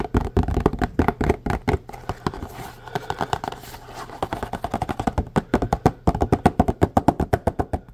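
Fingers tap rapidly and closely on hard surfaces for ASMR, a dense stream of crisp, sharp taps. The rhythm changes pace in places and settles into a fast, even pattern near the end, with no speech.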